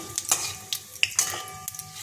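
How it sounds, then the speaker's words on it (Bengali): Bay leaf, dried chili and cumin crackle in hot oil as a spice tempering, with a soft sizzle broken by sharp utensil scrapes and clinks against the pan, heard close with no talk. "তেজপাতা, লঙ্কা, জিরে একটু ফোড়ন দিয়ে দিলাম।"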